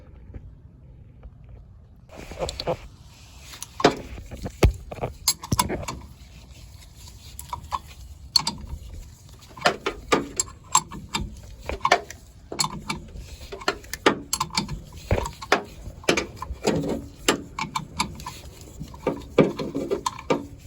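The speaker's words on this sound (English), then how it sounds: "I have channel locks and I can hold them tight enough so that I can get this top nut loose" Channel lock pliers work loose the top nut of a rear shock absorber on a 2020 Toyota Tacoma, giving close, irregular metallic clicks, taps and scrapes with short pauses between.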